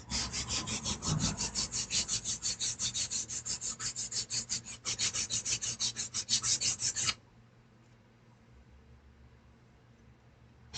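Sanding a wooden wand by hand with 220-grit sandpaper makes close, loud, rapid rhythmic rasping strokes for about seven seconds, pausing once, then stopping and leaving quiet room noise.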